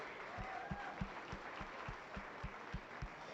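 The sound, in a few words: audience applauding exhibitors at county fair cattle show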